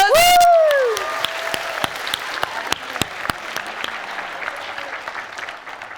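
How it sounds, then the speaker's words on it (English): At a school book award ceremony, a whooping cheer opens a round of applause from a modest crowd, with scattered, distinct claps that soften and taper off over several seconds. "Big round of applause."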